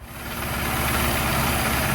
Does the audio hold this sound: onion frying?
no